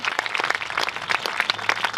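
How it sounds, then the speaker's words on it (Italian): An audience at a Nuragic-themed evening event claps for a guest, the sharp individual hand claps of a modest crowd heard close and distinct in a lively, uneven patter. "vi chiedo di fare un applauso a Ileana"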